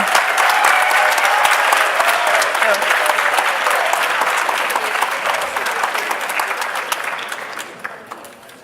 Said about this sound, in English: So if you could please give a big round of applause to my students.